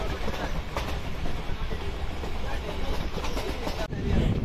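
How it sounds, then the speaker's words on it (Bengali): A train rumbles steadily toward Bethuadahari station on the line from Ranaghat, with continuous rolling wheel noise and rhythmic clatter, loud and close throughout. "ট্রেন এখন বেথুয়াডুয়ারি স্টেশনে পৌঁছাচ্ছে"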